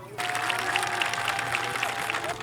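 An audience at the DINAABA cultural festival in Manta applauds with a steady, dense wash of clapping. A faint sustained tone hums underneath.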